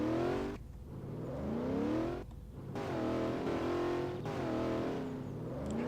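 A car in Garry's Mod revs hard and repeatedly, its loud, buzzing engine tone climbing and falling in pitch with brief dips between the revs.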